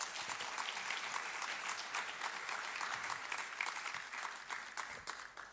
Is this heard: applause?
yes